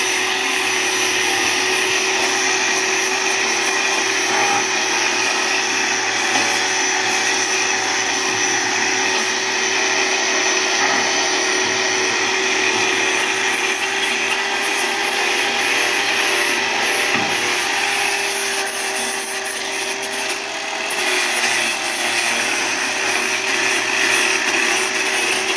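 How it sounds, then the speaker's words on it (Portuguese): A steady, continuous grinding whir of a power sander smoothing a surface before painting, loud and close, holding level with no breaks. "Agora tá lixando pra poder pintar."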